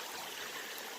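Creek water flowing beside a gold-prospecting outcrop, a steady, even rushing wash with no pauses, moderately loud and close.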